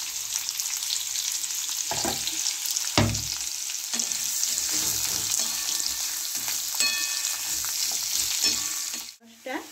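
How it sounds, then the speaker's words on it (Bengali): Onions fry lightly in a pan alongside two dried red chillies for a soya chunk curry, giving a constant close sizzle broken by a few clunks and scrapes of stirring, with no one talking. "পেঁয়াজগুলোকে ভেজে নেব, হালকা করে একদম ভেজে নেব"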